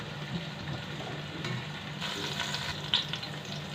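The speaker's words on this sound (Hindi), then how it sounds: "4 से 5 हम सब्ज़ मिर्च ऐड करेंगे और इसको थोड़ा फ्राई करेंगे।" Whole spices, including black peppercorns, cardamom and green chillies, sizzle and fry steadily in hot oil for mutton yakhni pulao, a continuous close crackle with faint stirring.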